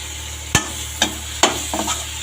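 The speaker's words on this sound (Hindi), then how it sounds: "अब डाल देती हूँ लहसुन अदरक का पेस्ट।" Garlic-ginger paste is stirred into tomatoes and spices frying in a pan: four or five sharp spoon scrapes and clatters over a soft continuous sizzle, with no talking.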